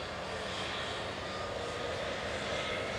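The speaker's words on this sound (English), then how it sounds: "it's an EasyJet A321 departing OE ISG back to Lisbon with flight" An EasyJet Airbus A321 jet departing Manchester Airport, with a loud, steady broadband engine roar that holds constant and close throughout, with no voices over it.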